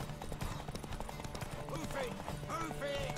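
Horse hooves clip-clopping in a race in The Witcher 3, a quick rhythmic beat set under game music and a speaking voice, with a brief horse whinny near the end.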